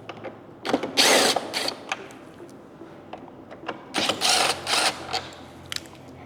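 A power tool backs screws out of the fairing on a Stage 2 Harley CVO, giving short whirring bursts of varying length with brief gaps and faint mechanical clicks, nearby and moderately loud.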